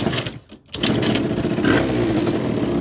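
A two-stroke engine fitted with a Spitro 86 aluminium top end catches after a brief drop and then runs, a steady buzzing rattle close by.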